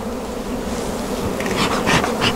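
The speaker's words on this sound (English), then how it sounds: "it's a very warm day, so there's a lot of bees out." Dense, steady buzzing of many honey bees around a hive on a warm day, a continuous droning hum with individual insects passing nearer now and then.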